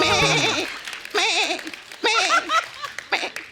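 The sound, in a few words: goat bleating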